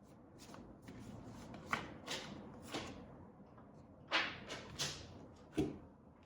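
Tarot cards are shuffled by hand nearby in a series of soft riffling bursts and light taps, about a handful of distinct shuffles against a quiet room.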